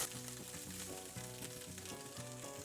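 Ham steak slices frying in a pan give a steady, dense sizzle that stays faint and even throughout, with a low musical hum running underneath.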